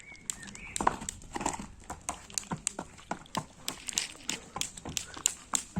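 Steady clip-clop of a young foal's hooves, a brisk run of sharp knocks at an uneven trot, close by with faint background noise.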